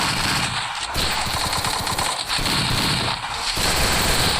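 Rapid bursts of automatic gunfire from the mobile shooter game Free Fire crackle densely and loudly without a break, layered over a continuous game soundtrack.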